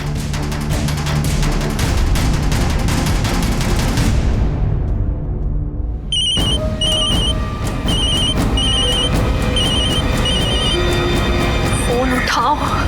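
A telephone rings in repeated double bursts of bright electronic trills, heard beneath loud dramatic music and speech from a Hindi TV drama scene.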